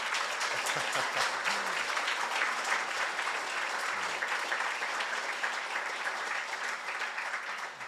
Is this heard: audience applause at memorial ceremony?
yes